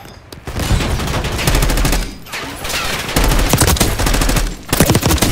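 Heavy automatic gunfire during a Call of Duty Black Ops 6 mission, long rattling bursts with brief pauses between them, loud and close, backed by deep booming impacts.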